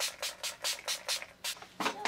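Avon Magix prime setting spray misted in a quick series of about eight short hissing bursts, close and fairly crisp, with brief gaps between pumps.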